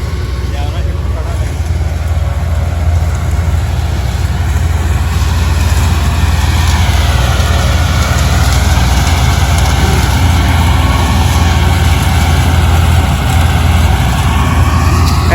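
A tractor engine idles low and steady throughout on a farm, a constant rumbling drone that stays even from start to finish, with faint voices in the background.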